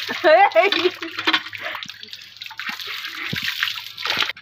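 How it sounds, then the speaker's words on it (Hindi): A woman at dusk in a village splashes water onto her face to wash her nose, giving close trickles and splashes while a voice talks over them at the start. "ये है मेरी दीदी जो कि नाक धो रही है"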